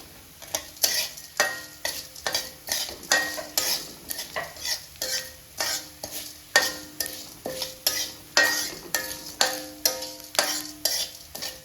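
Cumin and other ingredients heated in a pan for curry leaf powder, stirred with a spoon in regular scraping strokes, roughly one per second, over a soft sizzle.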